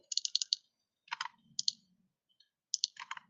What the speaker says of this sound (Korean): 그 검색하는 그 딸깍딸깍 소리랑 그 키보드 소리